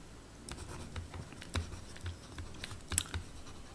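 Handwriting during a physics lesson on electricity, faint scratching pen strokes on paper with soft taps and scrapes at irregular intervals, quiet and close with no talk.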